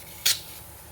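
A single short hiss of shaving cream sprayed from a can held at an angle, loud and brief against a quiet background.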